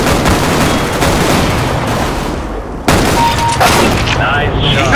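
Gunfire in Counter-Strike: Global Offensive, loud booming shots in quick bursts with a brief gap midway, under excited game chatter.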